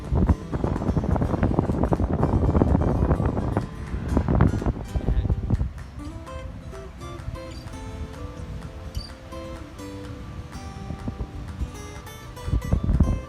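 Strong storm wind buffets the microphone on the coast at Laem Mae Phim, with rough sea waves crashing; loud gusty roaring fills the first half, then eases into quieter rumbling with scattered sharp bursts.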